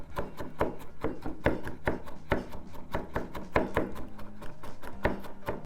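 Garlic being chopped with a kitchen knife on a board, a steady run of close, crisp knocks at a quick, even rhythm, roughly two to three strokes per second, with no talking.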